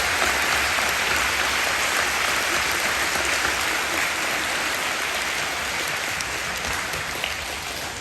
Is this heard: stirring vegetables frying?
no